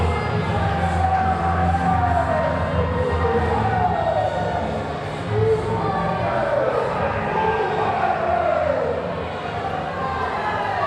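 Wrestling arena crowd chanting in rising and falling waves, a dense, loud roar of many voices filling the whole stretch with rhythmic swells.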